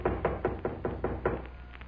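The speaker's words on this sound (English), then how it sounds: "there was a knock on the door" Someone raps on a cabin door in an old-time radio horror drama, about eight firm, evenly spaced knocks in quick succession, close and dry against a quiet background.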